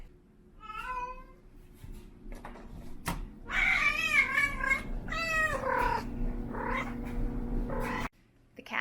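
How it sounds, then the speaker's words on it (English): A cat shut in a bathroom yowls in long, drawn-out, wavering cries, several in a row, loud and close, with a faint door-like thud partway through. "she is yowling away because she desperately wants out"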